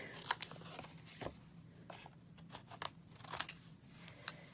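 Scissors snip through card paper during card-making, a series of sharp, crisp cuts spaced irregularly with short pauses between, close and fairly quiet.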